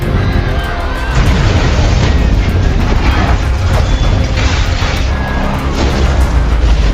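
Explosions in a film scene as a building full of officials is blown up amid a thunderstorm, with loud, continuous rumbling booms and crackling bursts filling the whole stretch.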